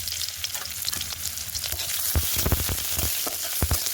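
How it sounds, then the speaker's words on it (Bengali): Garlic pieces and green chillies fry in hot oil in a wok, giving a loud, steady sizzle with sharp crackles and spatters that grow busier toward the end. No voices are heard. "তেল গরম হয়ে গেছে, দিয়ে দেবো ছোটো করে রসুনের টুকরো, কয়েকটা সেরা কাঁচা লঙ্কা"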